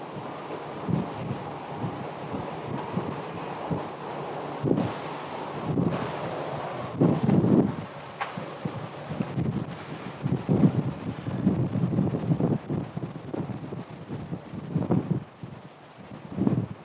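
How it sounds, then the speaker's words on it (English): Strong sustained wind of about 19 knots gusting across a microphone at Phoenix airport, a continuous roaring buffet with irregular louder gusts throughout, no talking. "19 knot sustained wind here"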